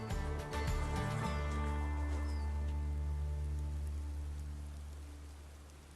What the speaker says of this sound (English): we've had wind, and now we've got rain